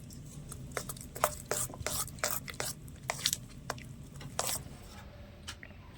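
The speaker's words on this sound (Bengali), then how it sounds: "এখানে একটা হুইক্স দিয়ে ভালো করে বেকিং পাউডার আর বেকিং সোডাটা একটু মিশিয়ে নিয়েছি" A whisk beats baking soda and baking powder into batter, making quick, close, irregular wet scraping strokes that come in bursts with short pauses.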